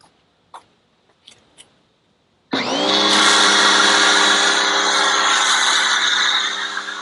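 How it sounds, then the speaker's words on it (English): A pressure washer starts up abruptly and runs loud and steady while driving an MTM Hydro PF 22.2 foam cannon loaded with soap, its dense hiss and motor whine continuing unbroken after a few faint clicks and handling noises. "Let me hook up my pressure washer and we'll see how this baby performs."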